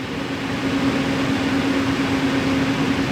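APNX FP2 120mm ARGB PC fans spin at full speed, around 1850 RPM, making a loud, steady airy whoosh with a constant tonal hum underneath and no talking.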